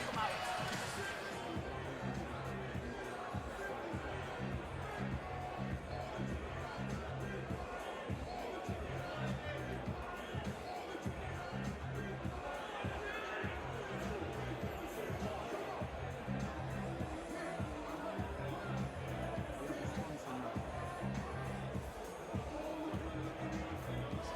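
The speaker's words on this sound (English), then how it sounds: "the crowd's getting behind these guys now" A crowd at a Caged Steel MMA event cheers and roars steadily throughout, a dense continuous wash of voices with a commentator talking over it.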